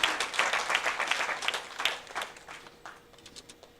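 An audience at an Indian community event applauds Mr. Wes Farback, a steady crowd clapping that is strongest at first and thins out toward the end.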